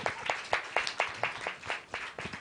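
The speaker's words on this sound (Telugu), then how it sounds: "అర్థమైతే గట్టిగా చప్పట్లు కొట్టండి" A church congregation at a Christian healing ministry gathering claps in a steady, rhythmic beat, about a dozen even claps with a slight echo, fairly close and without talking.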